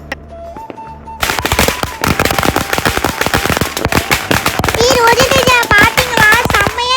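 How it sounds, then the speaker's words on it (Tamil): Saravedi, a long string of firecrackers, set off for a Diwali celebration: after a short faint tone, a loud, dense run of rapid crackling bangs goes on without a break, with whistling squeals rising near the end. "இந்த தீபாவளியை நம்ம சரவெடியோட ஸ்டார்ட் பண்ணலாம்"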